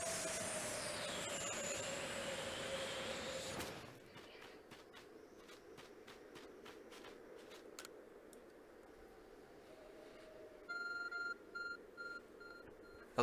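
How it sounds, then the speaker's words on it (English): An Arc Phone beeps in the video game Pokemon Legends Arceus, with a short run of faint, repeated electronic bleeps in a pulsing pattern after ambient game sounds and clicks, heard alone without talk. "Your arc phone is beeping."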